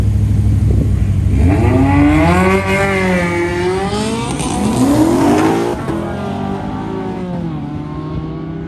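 Lexus IS F and a Honda bracket drag racing at Sacramento Raceway, engines roaring loud and close with rising, sweeping revs through the gears, then the note easing off toward the end.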